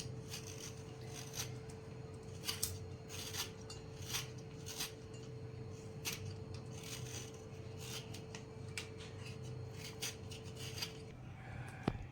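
Quiet scraping and rasping as a knife peels the skin off raw mangoes after their tips are trimmed, preparing an instant sour pickle. Short repeated strokes sound close and faint, with a steady background hum.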